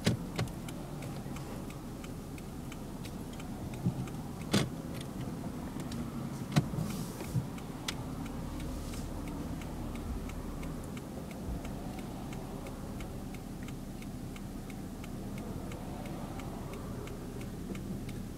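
Car turn signal ticking steadily and faintly inside a moving vehicle with hand controls, a regular fast click under low road and engine rumble, with a few louder knocks.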